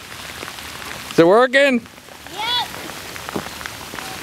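Steady rain patters on a yard on a rainy Fourth of July, a soft continuous hiss close by, while people exchange a few brief words over it.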